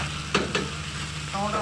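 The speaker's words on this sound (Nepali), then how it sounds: "टमाटर हालेर अलिकति पकाउनु पर्यो" Tomatoes drop into a sizzling pan, a steady close frying hiss with a couple of sharp spatter bursts early on and a crackling surge near the end, no talking.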